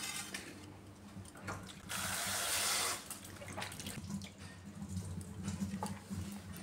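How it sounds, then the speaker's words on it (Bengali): Rohu fish pieces being rinsed under running tap water in a sink, a steady close splash and trickle that swells into a louder gush midway before settling back to a softer flow. "আরও একবার জল দিয়ে ধুয়ে নিচ্ছি।"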